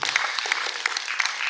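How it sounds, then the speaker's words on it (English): An audience at a hybrid seminar closing ceremony applauds with brisk, dense clapping that runs steadily throughout, fairly close. "So I think again we give a very big applause to the first group and the second group."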